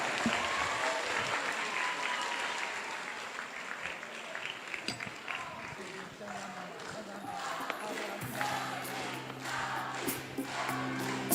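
An audience applauds at a prize ceremony for a contest's first-place winner, with dense, sustained clapping under a speaker's voice and a musical tone entering near the end.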